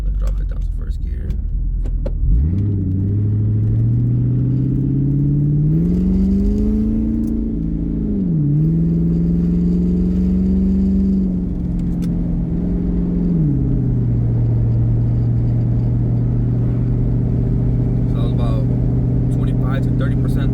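A 2001 Mustang GT V8 engine drones loudly and rises in pitch as it revs in first gear, holding steady, then drops back to a lower hum before settling.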